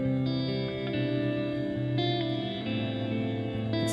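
A finger-picked guitar plays through a T2 reverb pedal on a big cathedral setting, with sustained notes and a lush, washing tail.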